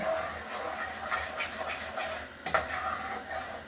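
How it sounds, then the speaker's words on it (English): A utensil stirs thickening creamy gravy in a pan on the stove, producing continuous close scraping and swishing with a sharper clink of metal near the end. "you have to constantly stir it because it will thicken"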